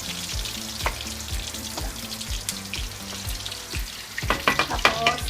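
Ginger sizzles steadily in hot oil in a pan while cooking Ilocano-style pakbet and adobo, with stirring scrapes growing busier toward the end.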